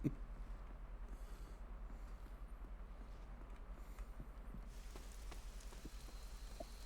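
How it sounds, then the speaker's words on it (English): Steady rain falls in the video game Marvel Midnight Suns, a soft, even patter and hiss at low volume with a few scattered drops. "Ooh, rain."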